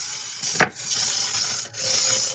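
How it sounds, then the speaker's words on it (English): An all-metal transmission makes a loud, continuous grinding whir with a sharp metallic clack near the start and two brief drops in the noise, close and with no voices. "It's got an all metal transmission in it, so that's the loud noises you are hearing."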